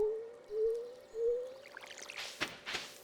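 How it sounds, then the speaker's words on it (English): An upgraded watering can pours over crops in Stardew Valley, with soft game tones first, followed by two or three quick, bright splashing pours close up. "You fill up my watering can, and since I have it upgraded, I can water"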